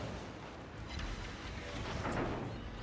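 Big booming naval gun salvo from the battleship Alsace in World of Warships, a dense rumbling roar that sustains across the whole stretch with a swell of blast energy near the end, no voices over it.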